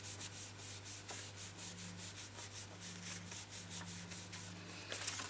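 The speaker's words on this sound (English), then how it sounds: "I can give that a good rub." A hand rubs firmly over a handmade paper star card in close, rhythmic back-and-forth strokes, a soft dry scuffing repeated steadily with a faint background hum and no talking.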